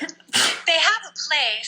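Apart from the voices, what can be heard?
sneeze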